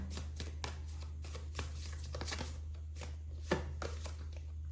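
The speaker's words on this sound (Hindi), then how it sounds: "We have to shuffle again to get that one card." Tarot cards being shuffled by hand, a series of crisp, quick riffling snaps at irregular intervals, fairly close but soft, over a low steady hum with no talking.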